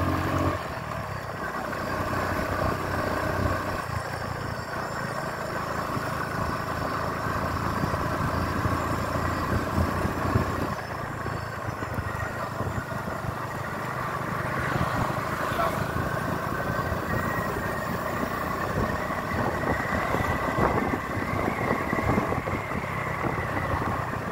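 A Honda RS 125 PGM FI motorcycle engine drones steadily through a long ride, a constant mid-pitched hum with road and wind noise, no voices over it.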